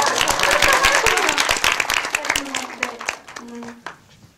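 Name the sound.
audience applause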